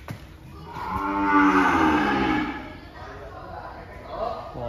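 Cow on a cattle farm lowing in one long, loud drawn-out moo that rises and fades, followed by quieter farm background.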